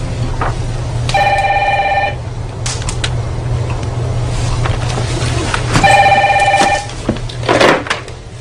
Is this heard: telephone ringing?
yes